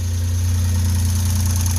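A six-cylinder engine idles smoothly after a repair, giving a steady, close, continuous hum with no pauses or sputters.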